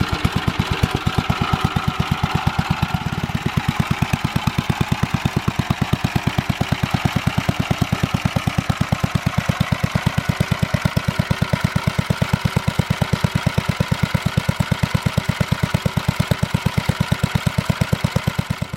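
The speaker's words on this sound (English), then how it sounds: "now that the carburetor's clean, it runs a little bit better." A vintage garden tractor engine, freshly cleaned carburetor, runs steadily at close range with an even, rapid thumping beat that holds for the whole stretch, no voices over it.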